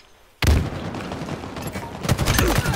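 Rapid gunfire erupts in a video game shootout after a quiet moment, a dense burst of loud shots followed by a second flurry about a second and a half later.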